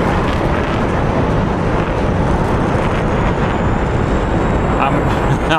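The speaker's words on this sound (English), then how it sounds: "I can hear that 21 spooling up." MiG-21 jet engine spooling up in the DCS World flight simulator, a steady loud roar with broad rushing noise and a faint rising whine, heavily overlaid by people talking.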